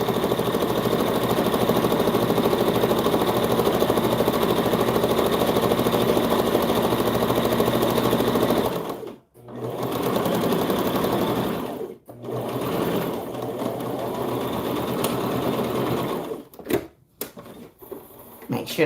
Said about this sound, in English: And we're going to sew all the way down. And we're just using a straight stitch.